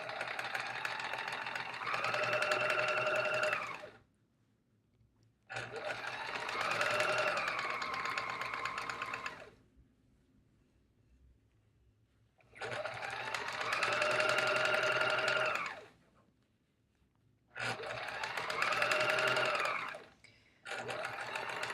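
A sewing machine stitching a fabric pillow case runs in four bursts of a few seconds each, a loud steady mechanical whir separated by short quiet pauses.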